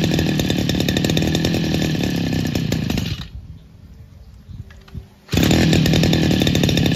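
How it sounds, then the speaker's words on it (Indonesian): A Steelhead BG328 two-stroke brush cutter engine runs loud and steady, cuts out for about two seconds, then roars back at full revving buzz. "untuk mesin sudah menyala dan suaranya cukup lumayan renyah sekali ya, seperti layaknya mesin potong rumput pada umumnya"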